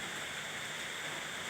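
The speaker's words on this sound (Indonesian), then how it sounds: "masih suasana hujan di sini ya." Steady rain falls in a dense, even hiss, constant and fairly close with no breaks or voices.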